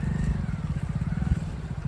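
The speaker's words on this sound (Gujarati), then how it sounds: "હવે જો પાછળ પ્રજ્ઞેશ બાઇક લઈને આવે." A motorcycle engine putters close by with a steady low throbbing rumble, its even pulsing beat continuous throughout.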